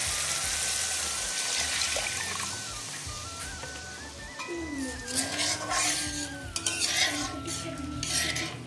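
Water pours into a pan of cooking spice masala for an egg kabab curry, a running splash with a rising pitch over clinking and stirring utensil sounds, near and moderately loud, no voices.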